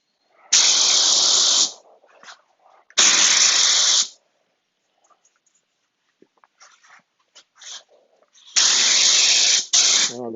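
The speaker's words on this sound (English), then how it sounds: "spray this inside lip." A spray gun hisses in three loud, steady bursts of a second or more each, spraying EkoFill filler onto an inside lip, separated by quiet pauses with faint handling clicks.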